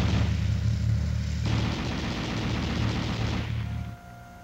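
A 7.62mm M73 machine gun fires from an M60 tank in a dense, loud burst of rapid shots that changes character partway through and then cuts off, leaving a low hum.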